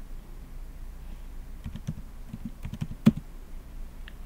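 Keys on a computer keyboard tapped in short, irregular bursts with one sharper strike, close and clear over a quiet room hum, with no talking.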